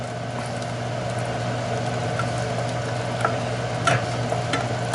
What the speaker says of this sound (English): But you have to constantly stir it.